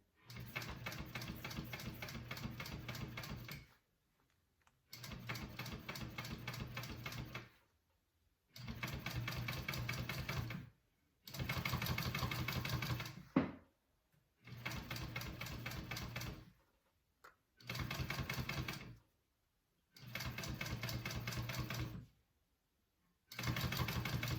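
A domestic sewing machine stitches a bag seam in repeated bursts of a few seconds each, a steady close mechanical whir broken by brief pauses as the stitching stops and restarts in reverse.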